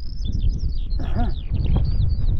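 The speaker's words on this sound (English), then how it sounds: "Little skylark. Giving it the beans there. He's struggling against the wind" A skylark sings out in the open, its high, quick twittering phrases carried over a constant low rumble of wind buffeting close by.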